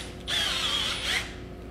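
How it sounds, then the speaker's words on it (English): A handheld drill spins a bent wire paddle to whip two-part taxidermy foam, a steady whirring burst lasting about a second that swells twice, close up and loud, with no talking. "it's real easy to put in a drill"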